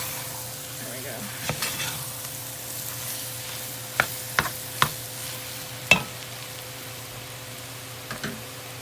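Ground beef browning in a pan, a soft steady sizzle under several distinct sharp clacks of a spoon scraping and tapping the pan as it is stirred around.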